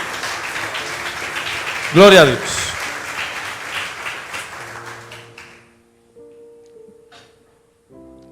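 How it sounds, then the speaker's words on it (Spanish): A church congregation applauds vigorously at a revival campaign service, steady dense clapping that swells and then fades out, with a voice calling out over it and music tones entering near the end. "dale fuerte ese aplauso a Cristo"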